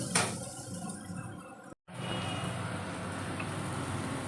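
Ground coriander and cumin powder are stirred and fried in a pan over low heat while making a katla fish chop. A spoon scrapes and clinks against the metal in a steady, continuous rhythm, broken once by a brief silence.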